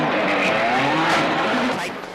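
Rally car sliding on extremely shiny wet tarmac at a Manx rally stage, engine wailing and swooping in pitch with a tire squeal and skid noise, loud and close, fading slightly at the end.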